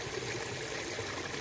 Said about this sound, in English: Good waterfall.